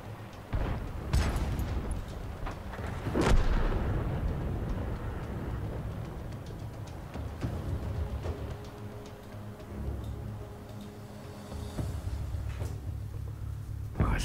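Artillery fires in World of Tanks from a Soviet SU-5 self-propelled gun, heavy booming blasts, a couple of sharp loud shots followed by rolling rumble and scattered impacts.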